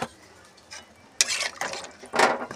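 A spoon scrapes and clinks in a pot as water is stirred into potato curry for a spicy chicken pakoda curry, in two short bursts with quiet gaps and no talk.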